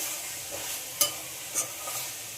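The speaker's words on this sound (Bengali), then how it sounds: "মশলার সঙ্গে আলুগুলোকেও খুব ভালোভাবে কষিয়ে নিতে হবে" Fried potatoes sautéed with spices in a pan, a soft continuous sizzle with a couple of brief scraping strokes of the spoon, close but quiet and without talk.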